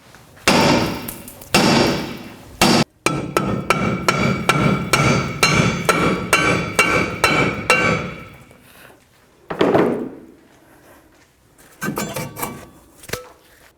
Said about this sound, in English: So I'm just going to take a hammer.